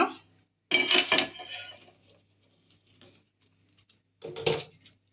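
A tawa griddle set down on a lit gas stove while making cabbage roti, heard as a loud close metallic clatter and scrape, a quieter rattle afterward, then a second clanking bump, with no speech.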